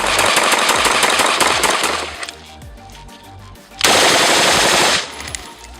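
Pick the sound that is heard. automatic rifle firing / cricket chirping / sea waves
automatic rifle firing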